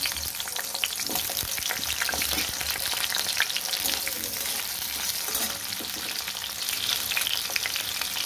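Loud, continuous sizzling of potatoes frying in oil previously used for frying lentil cakes, with crackling, spattering and occasional scraping as the pieces are stirred.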